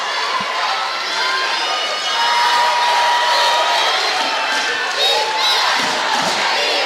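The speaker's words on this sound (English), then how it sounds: "You can hear the St. Joe's crowd trying to rally behind the troops" Arena crowd at a women's college basketball tournament game, St. Joseph's fans cheering and shouting to rally their team late in the game, a loud continuous roar with swelling whoops and no clear speech on top.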